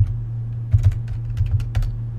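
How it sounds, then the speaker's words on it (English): Computer keyboard keys and a mouse are pressed and clicked in a quick cluster of sharp, close taps over a low steady hum, with no talk. "add a keyframe by holding down the Control key on my keyboard and clicking"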